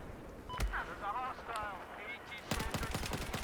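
L85A2 rifle fire in Battlefield 4, a quick burst of sharp shots near the end, with someone talking over a quieter stretch beforehand.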